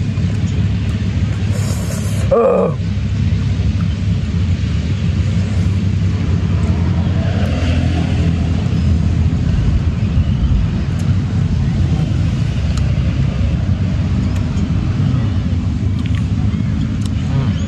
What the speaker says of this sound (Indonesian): Banyak motor lalu lintas.